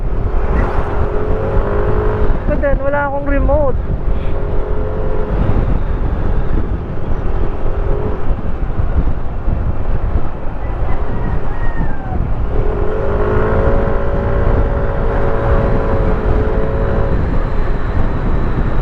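A Yamaha NMAX motor scooter engine runs steadily throughout, a continuous loud rumble with someone speaking over it at moments, on a roadside stop in Quezon Province.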